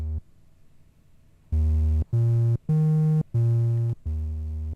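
Moog Muse synthesizer sounding a fuzzy triangle wave in a higher register, five distinct sustained notes rising then falling with short breaks between, slightly gritty tone, alone and fairly loud.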